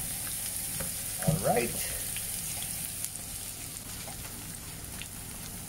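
Garlic sizzles in a little cooking oil in a pan, a steady close frying hiss with a brief louder crackle of spattering early on and a single short spoken word.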